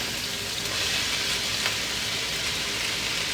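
Chopped onions and frozen diced potatoes fry in a pan, producing a loud, dense, continuous hiss of sizzling oil close by, with no voices over it.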